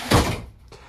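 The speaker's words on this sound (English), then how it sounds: "You've got a 30 by 36 inch shower with the slow close shower door." A slow-close shower door on a 30 by 36 inch shower in a 2022 Forest River Surveyor Legend 202RBLE RV bathroom, heard close as a brief rushing slide ending in a soft thump, then a light click shortly after.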